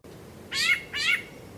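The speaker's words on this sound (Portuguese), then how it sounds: "Esse é um tipo de chamado do sabiá-laranjeira." A rufous-bellied thrush (sabiá-laranjeira) gives two short, bright call notes in quick succession, close and clear over a faint steady background hiss.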